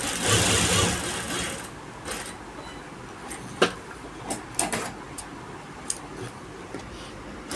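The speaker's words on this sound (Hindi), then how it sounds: "देखिए इसके बिल्कुल निशान पे सिलाई लगा लें" A sewing machine stitches the neckline of a kurti: a dense, steady run of stitching at first, then quieter with scattered sharp ticks and clicks from the machine.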